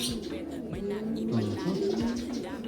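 Blue bar racing pigeons coo softly in low, rolling, repeated calls close by, overlapping with faint handling noise and background chatter.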